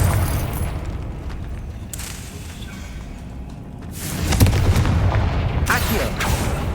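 Fiery Confringo spell blasts go off in Hogwarts Legacy, with a couple of sharp, booming bursts over a rumbling game backdrop, the strongest landing about two-thirds of the way through.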